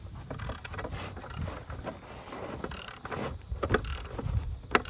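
A half-inch nut being turned to drive a bolt through a ramp extension, giving a run of close mechanical ratcheting and clicking with intermittent metallic ticks.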